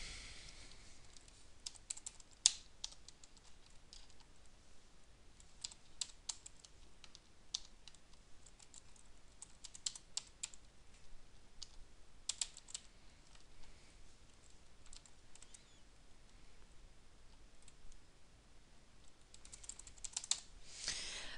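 Typing on a computer keyboard while working in Visual Basic 2008, a steady, faint run of light key clicks with a few sharper taps, no voices.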